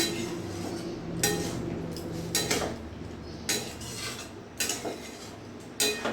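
Spoon stirring fig curry in a pan on the stove, giving several distinct metallic scrapes and clinks at irregular intervals over a steady low background hum.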